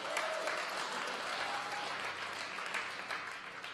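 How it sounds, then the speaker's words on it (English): A church congregation claps together in a dense, sustained burst of applause that holds steady for several seconds, then eases slightly toward the end. "Don't do a golf clap. If you're gonna clap, clap."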